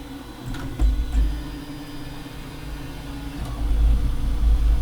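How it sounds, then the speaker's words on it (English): 3D printer restarting and homing its Z and Y axes, a low steady motor hum that swells with a couple of brief whirring moves and grows louder toward the end. "when I restart it, which I'm about to do, by pushing the black button, is it should home the Z and Y axis."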